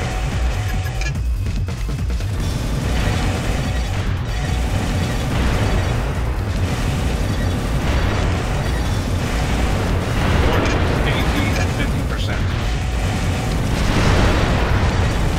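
Heavy cannon blasts and explosions pound continuously in the mech combat game Armored Core: Last Raven, a dense, loud barrage of repeated booms and bursts layered over one another with no speech.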